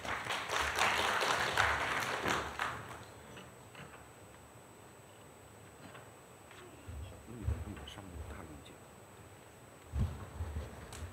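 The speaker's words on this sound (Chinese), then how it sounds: "我们掌声有请。" An audience at a Chinese automotive import-export logistics conference applauds to welcome a speaker, a moderately distant burst of clapping that fades after a few seconds, leaving quiet room tone with scattered taps.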